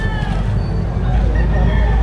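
Rooster crowing amid a busy chicken market in Padre Garcia, Batangas, with steady crowd chatter and other birds underneath; the call is not sharply separated from the surrounding noise.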